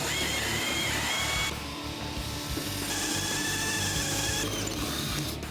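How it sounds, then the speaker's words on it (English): A continuous high-pitched Matco spot weld drill whine grinding out welds in car body metal, loud and close, pausing briefly partway and then resuming, with no voices. "I'm using a Matco spot weld drill, and Brent prefers the old school drill bit"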